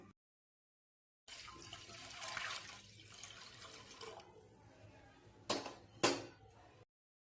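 Water poured for a rava kurdai batter makes a soft, faint trickling flow, ending in a couple of louder splashes.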